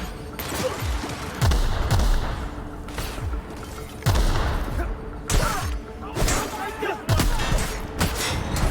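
Gunfire in The Outer Worlds: a series of heavy, booming shots at irregular intervals, each with a deep thump and a crashing tail, close and loud, with game voices and battle noise underneath.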